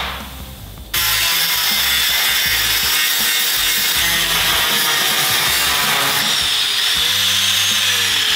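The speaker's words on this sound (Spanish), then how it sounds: "Tráete una moladora." An angle grinder cuts into a car bumper in a body shop, kicking in after a second and then running loud and steady as an unbroken harsh whine close by.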